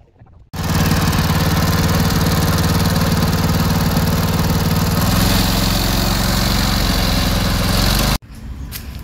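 A grass-cutting machine's motor starts abruptly and runs loud and steady nearby for several seconds before cutting off suddenly, mowing a cricket ground.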